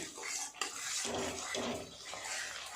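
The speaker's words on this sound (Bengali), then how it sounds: "আর একটু ভালো করে নেড়ে চেড়ে নেব।" Spices with garam masala powder being stirred in a pan for a large fish kalia, with close scraping and clattering of the spoon against the pan over a steady hissy background.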